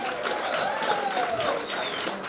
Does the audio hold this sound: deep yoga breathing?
no